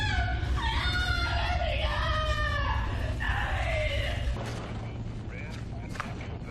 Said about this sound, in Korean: 어디선가 일행의 비명소리가 들려옵니다.